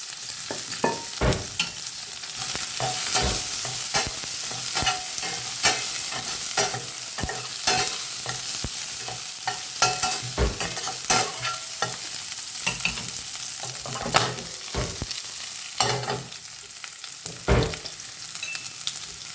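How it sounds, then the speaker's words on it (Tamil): Onions and plenty of curry leaves fry in a pan with a continuous close sizzle, broken by repeated scraping stirs of a spoon against the pan, with no one talking. "அடுத்தது ஆனியன் போடுறோம், வெங்காயம், ரொம்ப கருவேப்பிலை"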